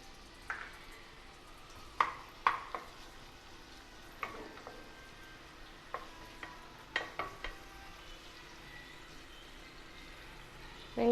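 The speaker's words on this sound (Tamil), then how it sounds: "எண்ணெய் காஞ்சதுக்கப்புறமா நம்ம அரிஞ்சு வச்சுருந்தோம்ல அந்த வெங்காயத்தை சேர்த்துக்கலாம்" Chopped onions stirred into hot oil for a mutton gravy, a quiet background sizzle broken by a dozen or so sharp spoon scrapes and clinks against the pan, no one speaking.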